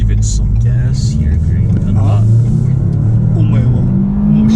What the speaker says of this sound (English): I'm gonna pull out. I'm gonna give it some gas here.